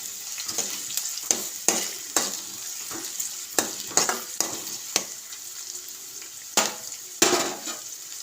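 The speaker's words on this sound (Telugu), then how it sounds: "కొంచెం వేగాలి కలర్ వచ్చేదాకా" Ingredients sizzle steadily in a pan as they fry toward colour for a simple charu dish, with repeated spatula scrapes and stirring taps punctuating the hiss at close range.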